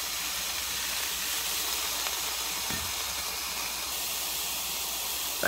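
Constant sizzling hiss of turkey bologna frying in a 10-inch Copper Chef skillet on medium-low heat, close and steady, with no talking.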